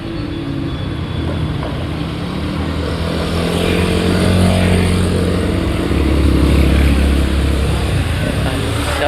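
Motorcycle engines drone and rev nearby along the Pasig River Esplanade, growing louder as they pass, with traffic noise around them.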